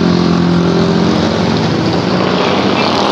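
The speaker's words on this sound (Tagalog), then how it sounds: "kaya may dumadaan pa yung mga motor" Motorcycles passing by on a road make a loud, continuous engine drone that stays near and steady throughout, with no speech.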